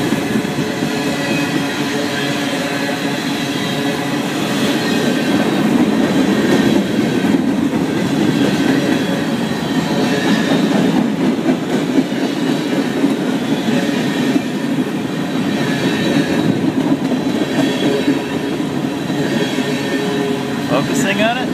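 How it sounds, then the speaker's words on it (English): A transcontinental freight train rumbles steadily past in Victorville, California, its wheels clacking and squealing over the rails throughout, loud and close, with people talking over the din. "Victorville, California. Transcontinental train lines go through here."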